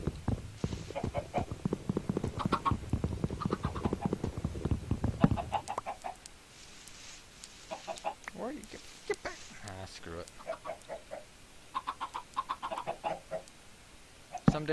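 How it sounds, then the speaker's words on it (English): A baby chicken clucks softly in Minecraft, short scattered clucks heard under steady talking from a man playing the game. "I'm sorry, baby chick, but life's gonna suck for you."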